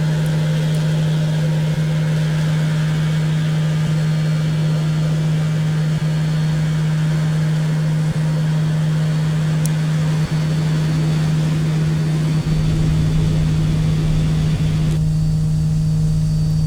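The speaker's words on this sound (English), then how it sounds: "So that's 2 successful engine starts." Airliner engines running in the X-Plane 10 flight simulator, a steady loud drone with a strong low hum throughout, its tone shifting slightly near the end.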